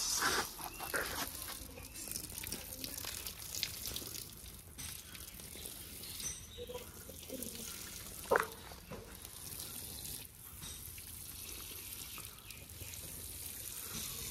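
Water pours gently and steadily onto soil around a newly planted tree outdoors, a soft continuous trickle with small splashes, one brief louder splash midway, and faint background noise throughout.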